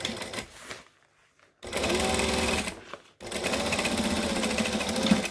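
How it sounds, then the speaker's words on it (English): A sewing machine stitches along the lining edge of a fabric pouch, running in two steady bursts of close, even whirring separated by a short pause, with a brief softer run at the start. "And then I'm just going to stitch along that edge to close it up."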